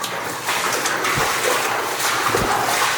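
Water in an abandoned mine haulage tunnel makes a steady close wash of trickling and splashing, with a couple of soft knocks and no talking.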